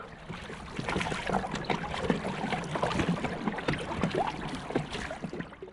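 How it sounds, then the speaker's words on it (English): Oars dip and splash in water with a steady rowing rhythm, close by, as a boat is rowed on Loch Lubnaig in December, over a soft rush of wind across the microphone. "As I continued rowing south, a nice breeze rippled the water"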